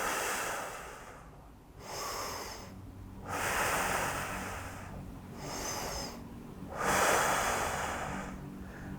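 Three slow, deep breaths taken while holding a McGill curl-up, each a long, loud airy exhale or inhale up close, separated by brief quiet gaps, with no talking.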